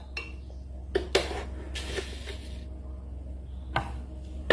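A spoon adds sugar to homemade juice, with several sharp metallic clinks and taps against a container spaced irregularly over quiet room noise. Faint handling sounds fill the gaps.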